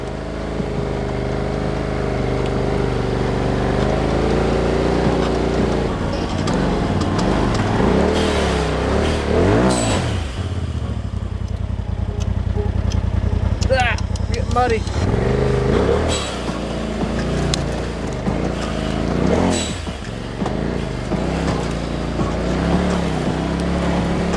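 Side-by-side UTV engine revving loudly with a sharp blow-off valve release, heard from close inside the vehicle, with a voice talking over the steady engine drone.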